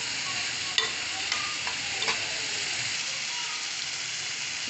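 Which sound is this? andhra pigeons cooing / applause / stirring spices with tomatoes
stirring spices with tomatoes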